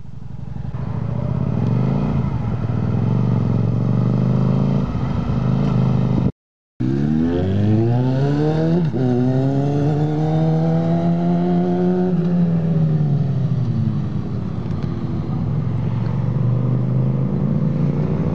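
A motorcycle engine revs and rides close by, its note climbing and falling repeatedly as it accelerates past, loud and sustained with a brief cut in the middle.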